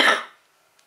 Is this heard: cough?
yes